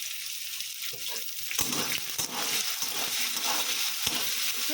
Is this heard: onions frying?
yes